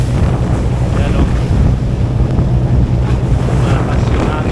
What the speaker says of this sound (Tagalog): Malakas yung hangin.